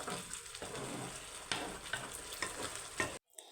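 Homemade lip-care oil mixture bubbling and sizzling in a pan, a continuous crackle with occasional stirring scrapes, before cutting off abruptly near the end.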